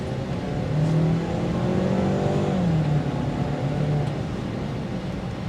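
A 2024 Ford Edge SEL engine hums steadily and rises in pitch as it accelerates, a continuous low exhaust drone heard close up with no voices.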